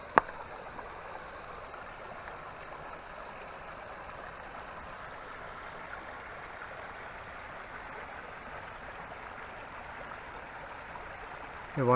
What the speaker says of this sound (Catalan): M'encallo una miqueta perquè escolteu el soroll de l'aigua.